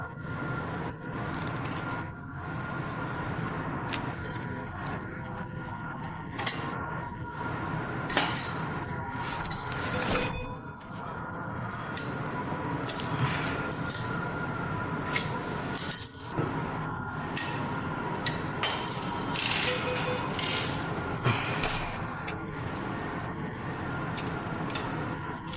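Plastic clicks, snaps and rattles come from opening the latches and buckles on a 1/14-scale RC 4x4 Unimog 535 model truck, close up and fairly busy, with no speech.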